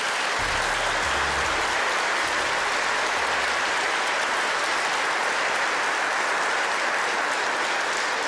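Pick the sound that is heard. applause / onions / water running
applause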